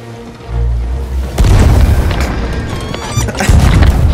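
A heavy booming crash as one ship rams another in the video game Sea of Thieves, followed by sustained rumbling and splintering noise, loud and close.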